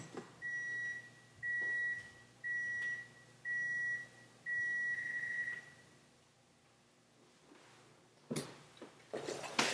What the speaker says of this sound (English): it's got this thing on it where it starts beeping if it's not in use after an hour